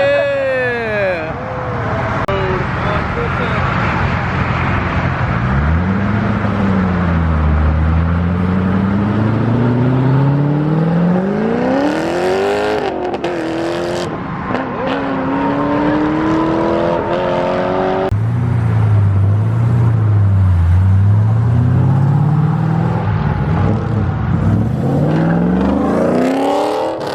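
Underground Racing twin-turbo Lamborghini Huracan Performante pulling away from a car show, its engine revving up through rising and falling sweeps, loud and close, then revving hard again, with crowd chatter underneath.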